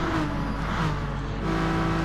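Renault Megane race cars wheel to wheel at Monza, a steady engine drone with a sustained tonal whine, close and continuous.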